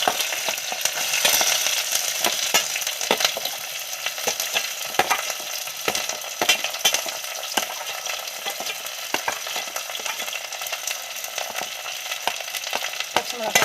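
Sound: frying in a pan for Tamil fish curry

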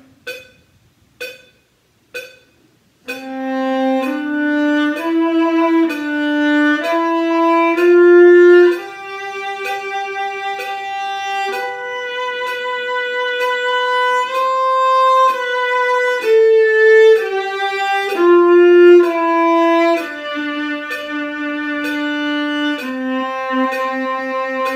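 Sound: viola playing exercise number 98 in third position

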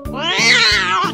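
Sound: cat meowing

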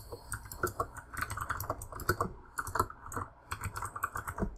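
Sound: loud computer keyboard typing

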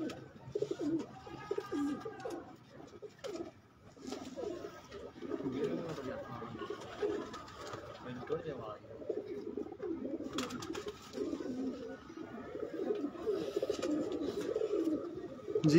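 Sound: pigeons cooing

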